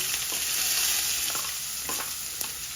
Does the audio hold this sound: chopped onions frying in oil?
yes